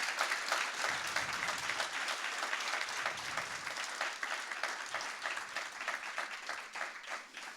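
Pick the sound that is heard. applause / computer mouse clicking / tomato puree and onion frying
applause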